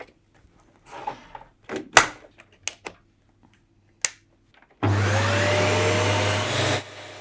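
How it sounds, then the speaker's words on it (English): A few clicks and knocks of handling come first, then a Dyson Big Ball vacuum cleaner switches on and runs with a loud, steady roar up close before winding down at the end. "you can do that by plugging in your vacuum and switching it on"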